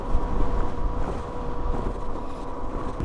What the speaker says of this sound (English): there's a stronger gust right there